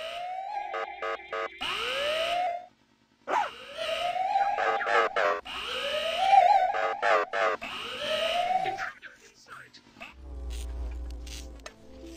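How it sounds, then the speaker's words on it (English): Alarm siren in the Ice Scream 6 video game: a series of loud, rising and falling electronic wails that repeat with brief breaks, then give way to a low rumbling tone at the end. "Sound the alarm!"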